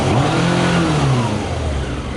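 A Yamaha motorbike engine running on pure whisky revs loudly and steadily, its pitch rising then sagging over about two seconds, with no voices.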